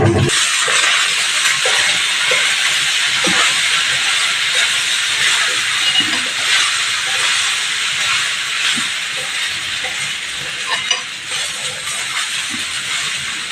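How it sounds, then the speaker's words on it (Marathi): Seasoned rice (phodnicha bhaat) with Kashmiri chilli and salt being stirred in a hot pan, a continuous close sizzling hiss with scattered soft scrapes and taps of the spoon, no talking. "आता आपण तो चांगला ढवळून घेणार"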